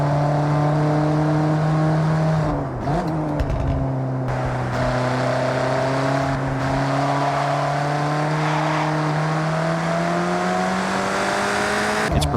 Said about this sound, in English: turbocharged four-cylinder engine is producing around 240 horsepower